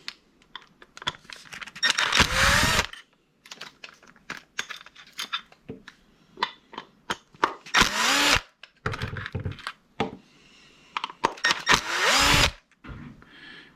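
Power tool backing out three screws from a Honda B or D series distributor, three loud close bursts of whirring motor separated by quieter clicks and handling sounds.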